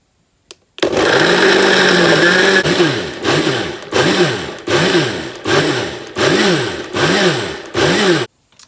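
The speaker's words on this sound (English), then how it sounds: "So now it's time to blend." A blender whirs through a vegan banana berry smoothie with vanilla and chocolate, a steady loud motor whine followed by a run of rhythmic pulses, each burst rising and falling in pitch, with no talk.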